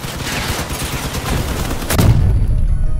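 Heavy weapon fire from armored battle vehicles in the Crossout game on PS4 forms a loud, dense roar of gunfire that swells into a deeper booming blast near the end.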